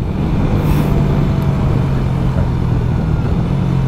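A tuned car engine pulls in fifth gear at around 6,000 RPM, giving a loud, steady drone close by that holds constant throughout with no talk.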